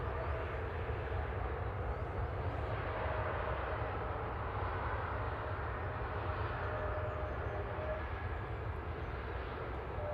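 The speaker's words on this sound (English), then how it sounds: "1993 TCLTO A321 Neo from Istanbul." A Turkish Airlines Airbus A321neo at Manchester Airport gives a faint, steady, distant jet roar that holds constant for the whole stretch.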